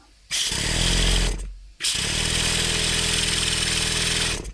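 A Stuart 7V stationary steam engine runs with a steady, rapid chugging beat, briefly cutting out after a second before resuming at an even pace.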